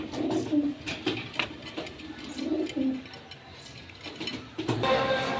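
Pigeons coo in low repeated bursts at a loft in Narayanganj, with a faint voice in the background and scattered chirps near the end.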